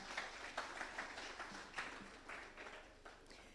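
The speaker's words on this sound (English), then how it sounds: "Can we make the applause louder for her" A conference audience claps in a fairly distant, moderately quiet round of applause that keeps a steady, even patter for several seconds.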